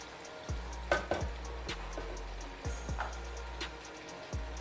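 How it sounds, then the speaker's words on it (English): Pepper sauce frying in a pan, a steady low sizzle with scattered clicks and light scraping taps recurring every second or so, close and moderately quiet with no talking. "So our pepper is in here already and it's frying"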